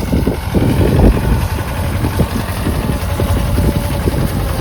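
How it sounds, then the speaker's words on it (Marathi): Tractor engine idling in an open field, a steady low rumble with slight knocking pulses holding at even loudness for the whole stretch, fairly close, with no talk over it. "हा ट्रॅक्टर आलाय आपला भाऊ."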